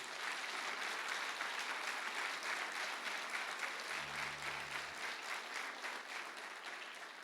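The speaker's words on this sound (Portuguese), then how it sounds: "aplauda bem forte o nome do Senhor" Church congregation applauding loudly during a 20th-anniversary special service, a dense, sustained roar of clapping that fills the room evenly, with a brief low hum partway through and no voices over it.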